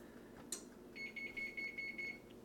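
Cooking appliance signaling it has reached temperature with a quick run of about ten high, evenly spaced electronic beeps, fairly faint over a low background hum, preceded by a brief click.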